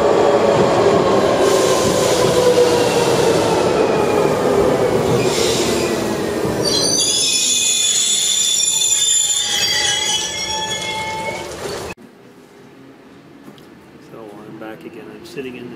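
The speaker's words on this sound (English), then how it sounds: "these are little urban trains" Small urban trains pass close by, a loud rumbling roar with high metallic wheel squeal that builds and then cuts off sharply, leaving faint background hum; a voice speaks briefly.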